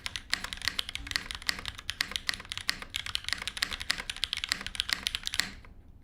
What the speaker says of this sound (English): that sounds like a nice, solid top mount board, I think, with GMK